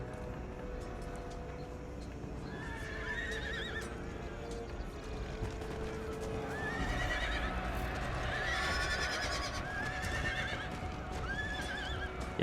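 Cavalry horses in the Empire: Total War battle game neigh and whinny several times over galloping, clip-clopping hooves and a steady background battle din.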